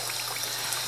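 Water from a mealworm bathing container is dumped out over a hand, making a soft, continuous trickling and pouring splash that stays faint and even throughout.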